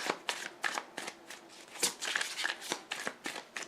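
Tarot cards being shuffled and drawn by hand, close up, with a rapid run of crisp riffling flicks and slaps repeating steadily with no break.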